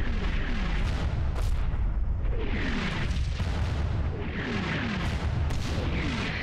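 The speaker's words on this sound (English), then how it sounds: "As the mortar barrage subsides" A mortar barrage in the World War II video game Combat Mission Battle for Normandy, rolling booms and explosions arriving in repeated waves over a continuous loud rumble, with no talk.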